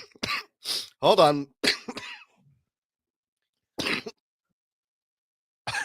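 A person coughs a few times in short bursts close to the mic, mixed with brief speech early on, followed by silence and two more isolated short cough-like bursts later.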